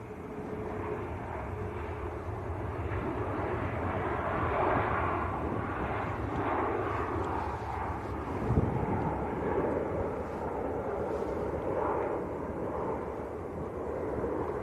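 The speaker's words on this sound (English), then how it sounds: "It's a good old A320." An EasyJet Airbus A320 from Lisbon at Manchester Airport gives a broad, steady jet roar at moderate distance, with some wind buffeting the microphone, continuous and unbroken.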